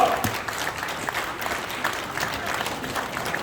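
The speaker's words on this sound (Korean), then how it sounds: "여러분들 박수로 받아주시면 고맙겠습니다" Applause at a church elders' association meeting as newly named officers are welcomed, a steady crowd of hands clapping throughout at moderate loudness.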